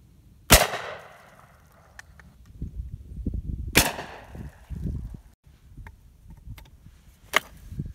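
Shots from a JW2000 shotgun fired outdoors, loaded with Aguila shells: two sharp loud blasts with echoing tails a few seconds apart, then a lighter crack near the end amid rustling handling noise.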